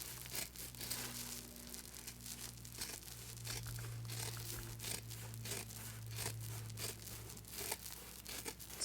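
Scissors cutting around thick machine-embroidered potholder fabric made in the hoop, a rapid series of close crunching snips and crinkles under a faint low hum.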